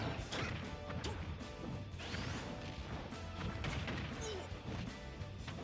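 Smash attacks landing in a Nintendo Switch fighting game, a dense run of sharp crashing impacts and whacks over continuous game noise, steady and loud throughout with no clear pauses.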